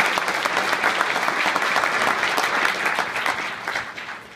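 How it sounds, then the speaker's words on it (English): Loud, sustained applause from a large audience, dense clapping that holds steady, then gradually fades toward the end. "give him a round of applause"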